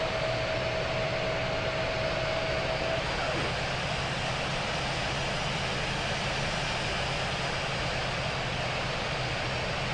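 Steady, loud roar of Airbus A350-1000 jet engines during landing in the RFS flight simulator, a broad continuous rush with a faint tone fading early on.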